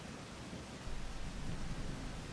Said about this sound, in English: Why is it raining? Torrential rainways.